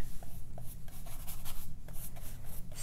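Wet brush strokes spreading water over vine charcoal marks on paper, a steady soft scratchy rubbing with repeated light swishes, close and fairly quiet, no talking.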